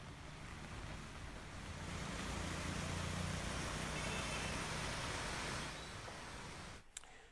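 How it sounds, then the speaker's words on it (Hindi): Heavy rain pours over Agartala, Tripura, in a broad, steady roar like wind-driven downpour or surf that swells in the middle and drops away near the end, with no voices. "त्रिपुरा की राजधानी अगरतला में भी जोरदार बारिश हो रही है।"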